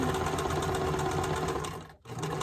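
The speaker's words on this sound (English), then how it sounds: "Again, using a scant 1/4 inch seam." A sewing machine stitches a quilt block with a scant quarter-inch seam, running in a fast, even mechanical rattle up close, briefly stopping for a moment, then starting again.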